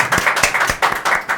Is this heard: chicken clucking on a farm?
no